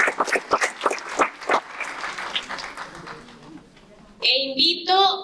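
A conference audience in Mexico applauds its speakers, dense clapping building right after a voice finishes, then fading before brief tonal chirps close out the moment.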